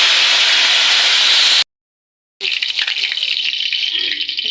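Curry leaves dropped into hot cooking oil in a home kitchen pan, a loud bright hissing sizzle that breaks off into brief silence, then comes back as a rougher, crackling spatter.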